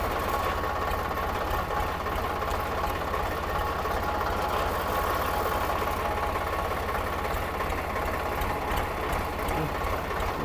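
A tractor engine idles with a steady mid-pitched chugging rumble and rapid mechanical ticking, constant and fairly close throughout, while the driver tries to get it into first gear.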